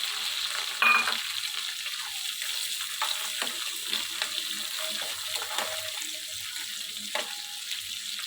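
Onions, green chillies and curry leaves fry in hot oil for a curry, giving a steady close sizzle with a few sharp pops and spatters throughout, and no voices.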